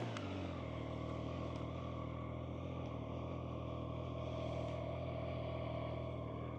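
Triumph Trident 660 motorcycle engine running at a steady idle, a constant close three-cylinder hum with a low throbbing undertone and no revving.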